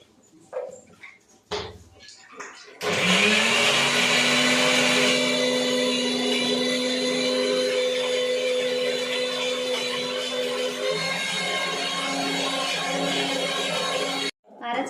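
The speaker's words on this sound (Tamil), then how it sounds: "இப்போ அரைச்சிடலாம்" A few brief clatters, then a mixer grinder grinding masala starts up and runs loudly and steadily with a high whine before cutting off abruptly.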